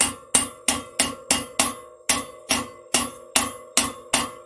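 A hammer strikes around the outer race of a wheel bearing as it is driven into a Honda XR650R rear wheel, about a dozen sharp, ringing metallic blows at a steady rhythm, loud and close.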